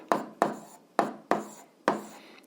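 Numbers are written by hand, heard as five crisp, evenly spaced strokes, each a sharp scratch that fades quickly, close up and with no other sound.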